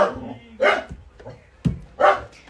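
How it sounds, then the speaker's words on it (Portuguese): A dog barks in a few sharp bursts, close by, mixed with a person talking over the noise. "preciso descer quando os cachorros dão escândalo"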